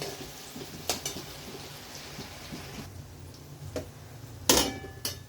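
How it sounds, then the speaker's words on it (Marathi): Green chillies fry in a pan over slow to medium gas flame, with a soft constant sizzle and a few sharp scraping clinks as a spoon stirs them now and then. "स्लो टू मिडियम गॅसवरती ह्या मिरच्याही अशाच कडक करून घेऊया असे मध्ये मध्ये त्याला सारखा हलवत राहूया"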